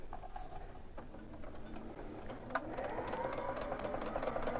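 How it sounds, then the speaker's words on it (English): A sewing machine with a quarter-inch foot runs steadily as it stitches a quarter-inch seam around a curve, a quiet, even mechanical whir heard alone. "I'm just ready to put it right under the sewing machine"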